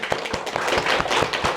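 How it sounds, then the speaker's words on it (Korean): Congregation at a Sunday morning church service claps together in a steady, fast rhythm, loud and close, with no talking over it. "우리 박수 한번 합시다"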